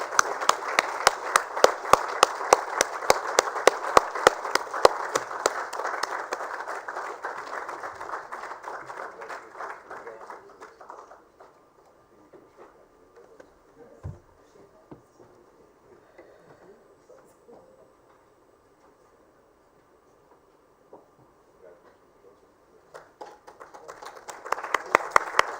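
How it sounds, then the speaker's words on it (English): Audience applause at the ISC FICCI Sanitation Awards Ceremony: dense, loud clapping fills the first ten seconds, then fades into a near-silent stretch before a fresh burst of clapping swells up again at the very end. "Let's give a big round of applause to Kendriya Vidyalaya number 1 Roorkee."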